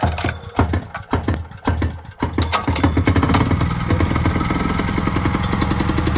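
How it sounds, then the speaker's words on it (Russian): A Honda EP 2500CX petrol generator is pull-started: a few rattling cord pulls and sputters, then the engine catches and settles into a steady, loud, close running drone. "Все, дальше дергаем стартер."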